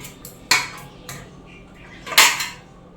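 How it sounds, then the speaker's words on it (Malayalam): A knife cuts a mackerel in two on a hard surface in a home kitchen, with three sharp clicking chops and a few lighter taps, near and crisp, and no talk. "നമുക്കിതൊന്ന് രണ്ടായിട്ടൊന്ന് കട്ട് ചെയ്യണം."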